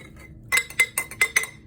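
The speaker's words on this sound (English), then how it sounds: "And then I start putting it into the jar." A spoon clinks against a clean glass jar while fermented cabbage is scooped in: four or five sharp, bright taps at an uneven rhythm, close up, with no talking.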